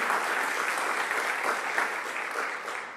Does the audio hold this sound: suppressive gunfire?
no